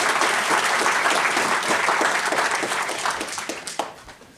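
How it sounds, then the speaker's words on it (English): An audience at a talk on Parkinson's disease claps, a dense burst of applause that is fairly loud at first, then thins and fades away over a few seconds. "I really think he deserves a round of applause for his work."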